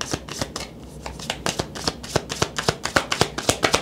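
A deck of tarot cards being shuffled in a steady run of crisp, rapid riffling flicks and slaps, close and fairly loud, with no voices over it.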